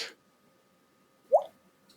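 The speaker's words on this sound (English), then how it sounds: "Splash." A small watery plop used as a splash sound effect for something dropping into water: one brief, moderately close drip-like splash standing alone after a short quiet pause, with no talking over it.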